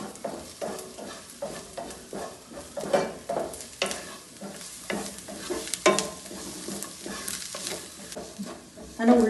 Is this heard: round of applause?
no